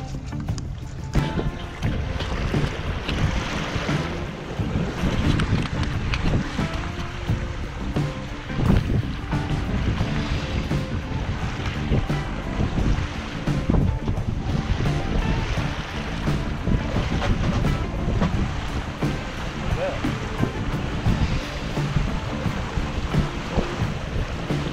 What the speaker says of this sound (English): So this was some awesome sailing right here